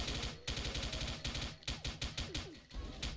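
Gunfire in the online shooter XSHOT, played in ghost mode, comes as dense rapid bursts with sharp repeated cracks over busy game sound, nearly continuous, with short gaps between volleys.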